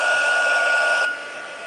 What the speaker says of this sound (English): we're going to turn this on again. Again, you have the heat gun.